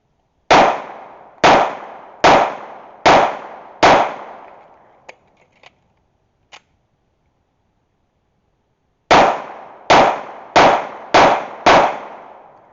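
Two strings of five sharp, loud pistol shots from a Colt Series 70 in a training drill, evenly spaced with a quiet pause and a few faint clicks between the strings.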